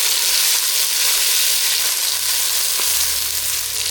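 Onions and tomatoes sauté in hot oil in a pan, giving a steady, loud, broadband sizzle that runs unbroken throughout, with no talking over it.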